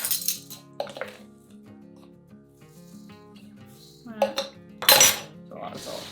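Salted cabbage is stirred and pressed in a bowl for sauerkraut, giving scattered metallic clinks and clatters of a utensil against the dish, with a few sharper bursts near the end.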